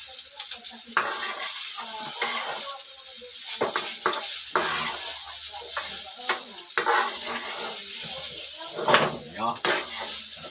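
Sinangag, Filipino garlic fried rice, sizzles in an oily pan while a utensil stirs and scrapes it in irregular strokes, close and continuous, with faint speech now and then.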